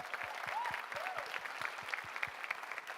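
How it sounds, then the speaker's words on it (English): A crowd at a dog-training celebration applauds a former coach, with steady, moderately distant clapping carrying a few individual hand smacks and a brief cheer or two running through it. "so round of applause for Jen."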